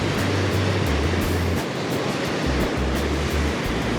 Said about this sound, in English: Waves are coming right up to my toes.